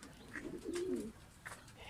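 Peepal-wala pigeons kept by a fancier give a low rolling coo close by, one clear phrase in the middle over faint background chirps and a brief higher call near the end.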